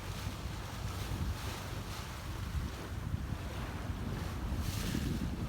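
Sailboat on an offshore passage from St Croix to Grenada, with steady wind buffeting and waves rushing against the hull in a continuous broad wash, and no talk.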